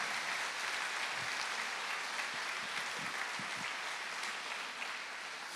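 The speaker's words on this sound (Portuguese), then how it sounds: "Dê um aplauso a Jesus" A church congregation applauds for Jesus during a worship service, a steady, full wash of clapping that holds evenly for several seconds with no voices over it.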